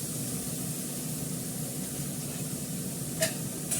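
Food frying in a pan, a soft, steady hiss of sizzling oil with a brief clink near the end.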